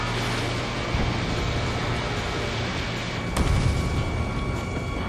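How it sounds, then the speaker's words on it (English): Gunfire and explosions pound a harbor under attack in Ace Combat 7: Skies Unknown. A continuous roaring barrage of booms is followed by one sharper blast near the end. "The harbor's under heavy fire."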